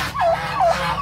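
A brooding turkey hen gobbles in short, warbling calls, three rapid bursts close by in a free-range backyard setting, with no talk.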